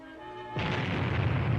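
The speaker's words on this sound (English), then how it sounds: "Then the blast tears away part of each roof." A test atomic bomb blast strikes houses in a civil defense test: after a quiet, steady hum, a sudden loud roaring rumble bursts in and keeps thundering, dense and low, to the end.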